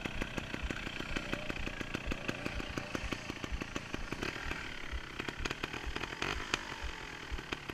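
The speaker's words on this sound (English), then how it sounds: "You hear how little throttle I'm having to use?" A trials motorcycle engine runs on very little throttle at a woodland practice ground, giving off a steady, rapid putter of close pulses with no talk over it.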